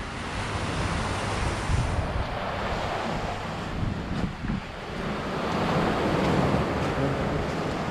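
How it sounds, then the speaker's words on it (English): Steady surf at Cheoc Van Beach in Macau rolls on continuously, heavily mixed with gusty wind buffeting the microphone. "So this beach is called Cheoc Van."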